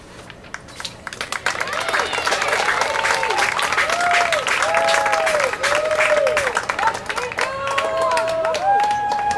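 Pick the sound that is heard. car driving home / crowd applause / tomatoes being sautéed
crowd applause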